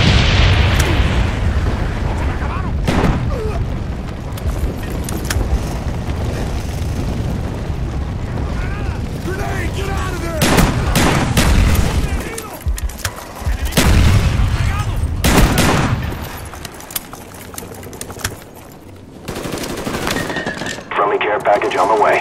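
Call of Duty: Black Ops multiplayer napalm strike with heavy machine-gun bursts and booming explosions that roll on almost without a break. Loud, dense battle noise comes through alongside game voice callouts.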